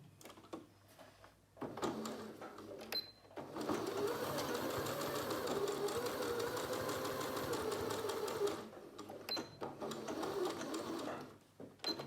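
A sewing machine stitches a fabric face mask in one long, steady run of several seconds, bracketed by quieter handling sounds and brief starts, fairly soft overall.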